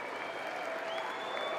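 Audience applause in the chamber at the 2026 State of the Union, dense steady clapping throughout with a faint tonal voice-like trace running underneath.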